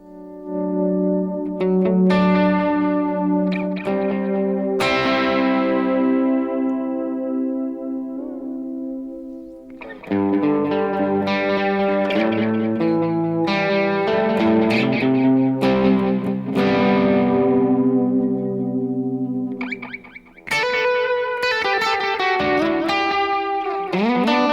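Electric guitar run through the Teenage Engineering EP-133 KOII used as an effects pedal, with chorus-like modulation and echo trails. Strummed chords and picked notes ring out continuously with repeating delays, closely miked and loud, no talking.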